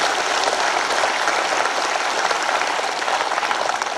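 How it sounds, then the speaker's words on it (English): Sustained audience applause at a live interactive session, dense and steady clapping from a large crowd filling the whole stretch at even loudness, with no talk over it. "So please give a round of applause to this most powerful man."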